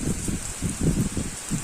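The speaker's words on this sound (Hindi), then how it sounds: "उस साइड से बहुत तेज वाली बारिश है भाई" Heavy rain falling nearby, a soft, continuous patter with uneven bursts of drops on surfaces, moderately quiet and with no voices.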